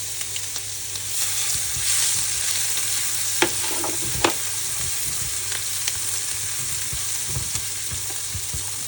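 Black beans frying with chicken and ginger in a wok for chicken in black bean sauce, a loud steady sizzle with occasional sharp scrapes and clanks of a utensil against the metal.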